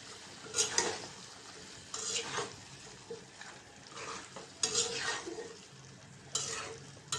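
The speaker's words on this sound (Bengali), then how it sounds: "মাছটা একটু কষাই নেব" Pangas fish sautéing with potatoes and spices in a pan, a low steady sizzle with several bursts of spatula stirring and scraping at irregular intervals.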